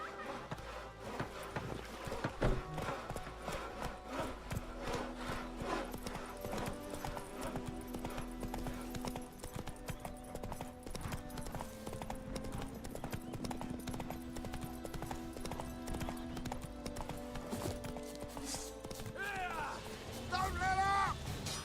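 Horse hooves galloping in the Witcher 3 video game, a steady rapid clip-clop running continuously under game music and occasional voices.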